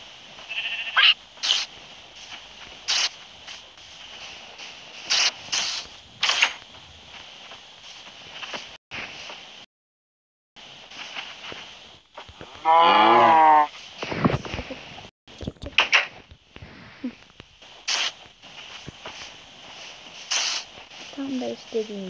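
Cow and sheep sounds from the video game Minecraft: a drawn-out bleating call stands out midway, set among repeated short game effects, clicks and brief silences over a steady background hiss.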